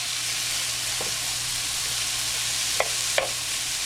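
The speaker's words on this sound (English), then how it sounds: "we're going to sear both sides" Pork bites sear in a smoking hot pan with a steady, broad sizzle and hiss, nearby and constant, broken by a couple of brief clicks or pops near the end.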